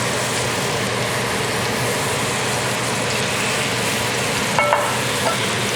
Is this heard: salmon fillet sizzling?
yes